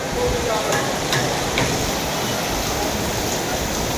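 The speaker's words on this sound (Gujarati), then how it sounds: "વરસાદ તો આપણે કાંઈ લાગે નહીં પણ તો એ ધીમે ધીમે અત્યારે ચાલુ થયો છે" Light rain patters steadily on a metal sheet roof at the Chotila Chamunda Mataji hill temple, making a dense, even hiss with occasional faint ticks of drops.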